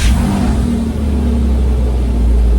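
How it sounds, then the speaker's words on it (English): A Porsche Boxster's flat-six engine fires and settles into a loud, deep, steady idle rumble right up close, with no talk over it. "Start the car."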